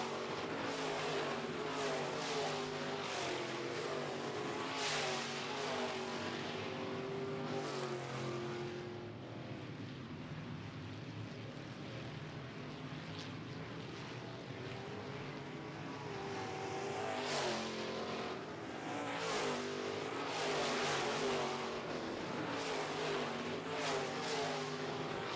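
Modified race cars roar around an oval track in a feature race, engines droning loudly and steadily with passing surges and revving swells, some cars near and others farther off.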